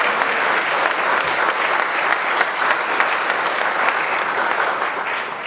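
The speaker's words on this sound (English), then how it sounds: "Let's give this honored group a round of applause." An audience at an SEDC annual meeting gives steady, enthusiastic applause, a full wash of many hands clapping at an even level throughout, with no speech over it.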